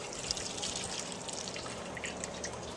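Fuel being poured out of a bowl, a steady liquid trickle and splash that runs continuously and sits close and fairly quiet, with no one talking.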